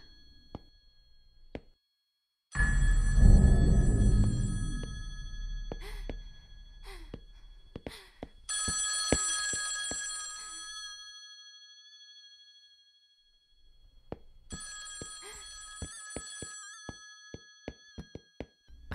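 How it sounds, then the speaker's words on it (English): A telephone rings in a video game, sounding in two bursts of bright, ringing tones between separate clicks and knocks, with a rustling, thumping passage in between and no talking. "I should answer the phone before going upstairs."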